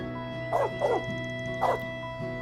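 In the video game Trails Beyond the Horizon, a dog gives three short barks, two close together and then one more, over a steady hum of background game music.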